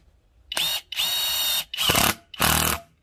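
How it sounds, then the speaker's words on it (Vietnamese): Power drill boring a pilot hole for an anchor bolt, in four loud whining bursts of about half a second each, separated by short pauses. "giờ em sẽ khoan mồi trước nhé"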